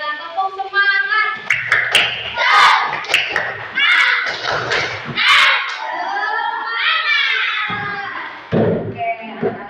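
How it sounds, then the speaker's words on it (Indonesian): Schoolchildren in a classroom perform a rhythmic spirit clap, with bursts of patterned clapping and thumps mixed with their chanting voices, loud and close. "Coba kita tepuk semangat."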